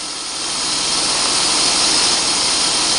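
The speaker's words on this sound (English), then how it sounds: "first thing we do is turn the engine on, put the heat all the way up, full fan" Car engine idling with the heater blower on full fan during coolant bleeding, a loud steady roaring rush of air that swells slightly at the start and then holds constant.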